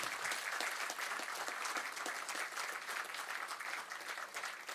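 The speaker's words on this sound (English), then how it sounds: "We can give him a great round of applause for his exemplary speech" Graduation-day audience in an engineering college hall applauds a speech, a fairly quiet but continuous spread of many hands clapping without a break.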